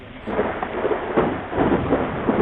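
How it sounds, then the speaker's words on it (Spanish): Heavy rain pours steadily while deep thunder rolls in repeated swelling bursts, loud and close. "La lluvia y la tormenta."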